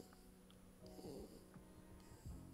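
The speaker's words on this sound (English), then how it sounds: "He's snoring." A man snoring quietly in a few slow, rough breaths with soft snorting rasps, faint and close, with no talk.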